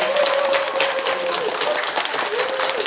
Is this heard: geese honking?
no